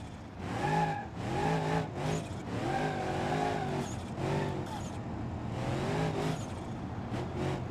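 A car engine in the driving game BeamNG, heard as a steady revving drone whose pitch rises and falls through the whole stretch.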